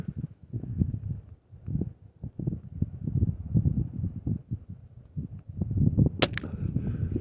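A .22 HW95 Luxus air rifle fires with a sharp, sudden crack near the end. Before it come soft, irregular thumps and handling noises, with no talk.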